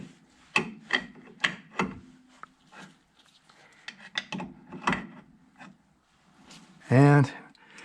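A castle nut is backed off on a front brake hub while the rotor is turned, giving a series of close metallic scrapes and rubbing clicks in an irregular rhythm, ending with a louder grating burst.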